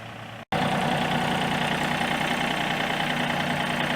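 A John Deere 3025e compact tractor engine idles steadily and fairly loud nearby, a continuous low drone broken only by a brief dropout near the start.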